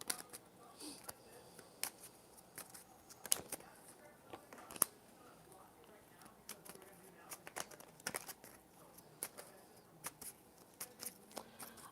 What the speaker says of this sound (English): All right, Natalia, we're shuffling your cards